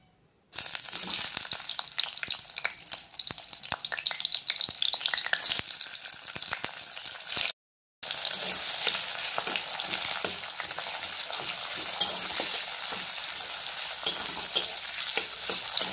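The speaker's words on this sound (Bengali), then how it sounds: "প্রথমে আমি টমেটো, পেঁয়াজ ও লঙ্কাগুলো হালকা করে ভেজে নেব।" Tomatoes, onions and chillies lightly frying in a village kitchen, a loud, steady, crackling sizzle running almost throughout, broken by one short pause, with stirring scrapes mixed in.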